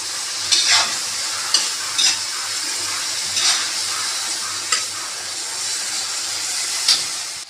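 Masala and ghevda beans roast in a pan with a constant close sizzle, broken by regular scraping strokes of a spatula stirring every second or so.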